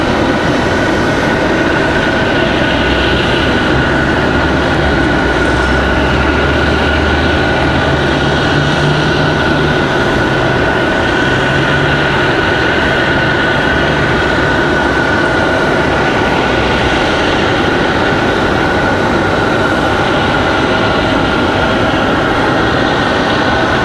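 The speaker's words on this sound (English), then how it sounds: "Delta 2633 coming in from Atlanta. It's going to be the" A Delta Boeing 737-900 arrives from Atlanta at Raleigh-Durham International Airport as a long, loud, unbroken roar that stays steady from start to finish.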